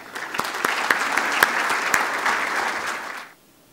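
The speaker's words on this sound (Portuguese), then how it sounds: "por favor, uma salva de palmas a Everardo Maciel." A lunch audience gives a speaker on tax reform a round of applause, dense and loud sustained clapping that cuts off sharply near the end.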